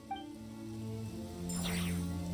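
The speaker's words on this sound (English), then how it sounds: "Yeah, I like rain." Rain in the Genshin Impact video game: a soft, steady patter of game rain under sustained tonal music, quiet and continuous with no speech.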